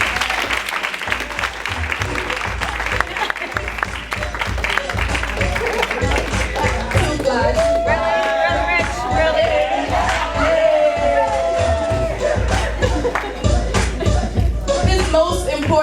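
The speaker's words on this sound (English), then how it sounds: "please give them a round of applause" A conference audience in Baltimore claps loudly and steadily throughout, with scattered cheers and whoops rising over the dense applause and a brief tonal cry in the middle.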